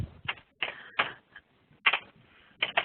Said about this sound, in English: I can hear someone typing.